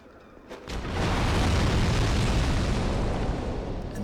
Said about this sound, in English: The firebomb explosion kind of triggers the TNT barrels that are on the other side of the wall.